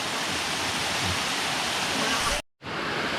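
Kipot Falls on a forest trail, a steady broadband roar of falling water filling the clip, loud and close, with a brief cut to near-silence before the rush resumes.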